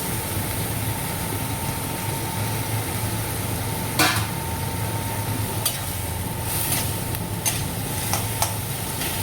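Potatoes fry in a pan with a soft, continuous sizzle over a low steady hum, broken by a few brief clinks of stirring.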